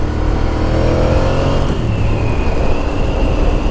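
A 2007 Ducati Monster 695 V-twin motorcycle engine runs steadily while riding, a loud continuous rumbling drone with a slight pitch change midway, no talk.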